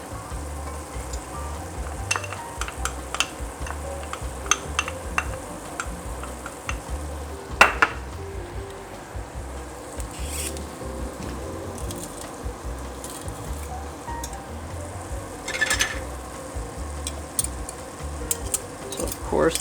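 Onion and garlic sizzle steadily in a pot of hot grease for beef barley soup, a continuous close frying hiss broken by occasional clinks and scrapes of a spoon against the pot.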